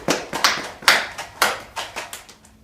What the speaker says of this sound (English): Let's give a round of applause for Annie